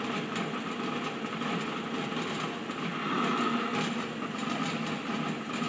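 A Mawdsley's laboratory motor runs steadily as its load is increased, giving a continuous mechanical hum and whir with faint vibration, even and moderately loud, without talk.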